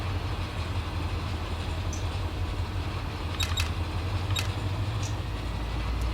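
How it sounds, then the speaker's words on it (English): Train sounds from the Run8 Train Simulator video game: a steady low engine rumble holds throughout, with a few brief, sharp higher clicks or squeals partway through. "So we can enjoy the beautiful sounds of the train,"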